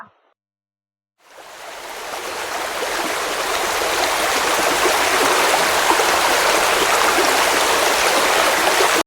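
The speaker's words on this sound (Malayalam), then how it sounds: "ആ മേലുള്ള റോട്ടിലെ വെള്ളം മുഴുവനും ഞങ്ങളെ മുന്നിലെ റോട്ട് കൂടെ ഇങ്ങനെ വന്ന് പാടത്തേക്കാണ് വന്ന് പോണ" After a second of near silence, a strong continuous rush of rainwater streaming down a road toward a field rises and holds steady, loud and close.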